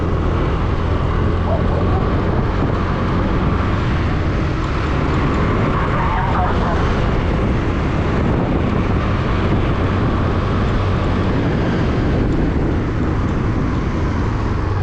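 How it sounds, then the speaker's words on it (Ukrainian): A Suzuki Address V125G motor scooter engine drones steadily and loudly throughout while riding, with wind rumble and road noise, and no clear talking. "такий шустренький скутер"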